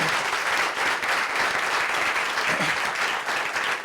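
Sustained audience applause at a talk on Haiti and the Atlantic world in New York City, a dense steady wash of many hands clapping that holds level for the whole span without speech over it.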